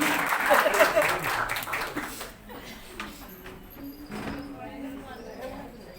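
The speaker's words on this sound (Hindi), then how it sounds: "अरे वाह, जोरदार तालियां।" Audience applause at a dance drama staged by a senior citizens' group, a dense burst of clapping that swells in the first two seconds and then thins out into scattered claps and murmuring.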